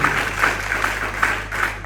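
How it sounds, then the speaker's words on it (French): Church congregation applauding, a steady wash of many hands clapping at moderate distance with no talk, lasting under two seconds. "Est-ce qu'on peut applaudir pour la vie du pasteur Edmond Pierre"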